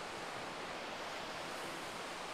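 Sea waves roll onto the beach at Side-Kumköy at sunset as a steady, dense wash of surf noise, continuous and fairly close, with no voices.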